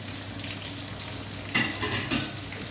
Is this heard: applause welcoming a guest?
no